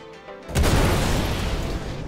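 Missiles striking a 300i spaceship in a video game: a single deep, heavy boom erupts after a brief moment and fades into a long rumbling roar that lasts to the end.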